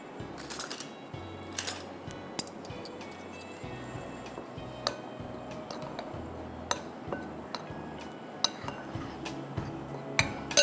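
Flour, cornflour, salt and black pepper mixed in a bowl, with repeated light clinks and scrapes of a utensil against the dish, fairly quiet and close, and no talking.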